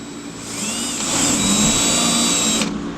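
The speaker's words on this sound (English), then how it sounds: "and then drill the holes through that." A power drill bores holes through the metal of a five-ton crew cab truck in a shop, a steady, high, whining drone that builds slightly and then cuts off abruptly near the end.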